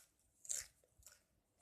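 Crunchy homemade caramel popcorn is bitten and chewed close up, giving two faint crisp crunches in a quiet room.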